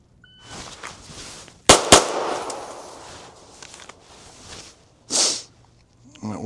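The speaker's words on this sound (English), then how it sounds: "Just draw and shoot 2s." Pistol drawn from a Safariland IncogX concealed-carry holster and fired outdoors on a cold day: two sharp, loud shots in quick succession, with rustling before and a brief noise after.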